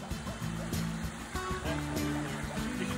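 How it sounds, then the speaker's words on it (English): Dirty water draining from a homemade dog pond, a steady trickling and gurgling rush with soft splashes, fairly faint and continuous. "You can see all the dirty water going down."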